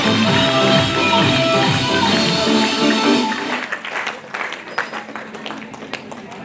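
Audience at an honour ceremony in Jamshedpur applauding the guru mother: loud music and dense clapping at first, thinning to a few scattered claps after a few seconds.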